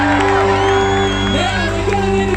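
A crowd whoops and cheers at an outdoor New Year's Eve fireworks show in Perth, Western Australia, loud and close, with steady tones running under the shouting.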